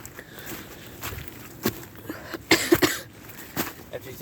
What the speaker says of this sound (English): After he's done coughing.